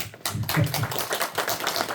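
An audience claps together after a talk about ancestors who honoured Yi Sun-sin, a close burst of many hands starting abruptly and continuing as a dense, uneven patter for about two seconds.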